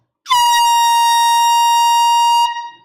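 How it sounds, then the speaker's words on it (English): A single loud, sustained blast from a quadruple air horn, blaring steadily for about two seconds before cutting off abruptly. "And this is a quadruple air horn."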